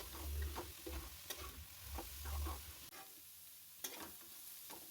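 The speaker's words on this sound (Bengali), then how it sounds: "দিয়ে নাড়াচাড়া করে নেব" Fenugreek and coriander leaves are stirred in a hot frying pan for cauliflower and methi paratha filling, giving repeated scraping strokes over a soft sizzle, close and steady, with no talking.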